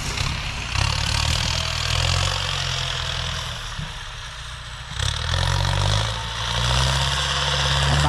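A modified Ford 5000 Turbo tractor engine runs in first gear, a loud, steady low diesel rumble with a brief dip midway before the revs climb again.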